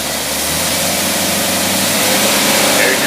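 An engine fitted with a Weber two-barrel carburetor running at mid-range speed under very light load, giving a loud, steady, close roar with a broad hiss that holds even throughout.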